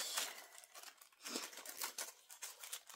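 Paper and cellophane crinkle and tear as a stationery subscription box package is unwrapped, close and fairly quiet, with irregular rustling bursts and no talk.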